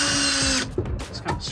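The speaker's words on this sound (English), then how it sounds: "I already have the drill out, and so I'm just gonna send this in here." A power drill boring holes for rivet nuts in a Jeep Gladiator, whining loud and steady for about half a second before cutting off, followed by a few faint scrapes and taps.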